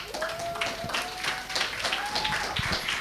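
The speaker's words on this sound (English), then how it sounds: "Can we please appreciate our keynote speaker with a round of applause?" An audience applauds a keynote speaker at an education event, steady dense clapping from a crowd filling the room, with a faint tone running underneath.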